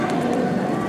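Pigeons cooing in a busy city plaza beside a cathedral, a steady murmur of coos under dense crowd noise throughout.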